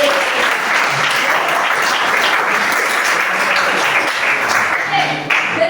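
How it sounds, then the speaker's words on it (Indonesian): Classroom students in a high school history lesson break into steady, dense applause that fills the room evenly from start to finish, with a few voices mixed in underneath. "Tepuk tangan buat kita semua."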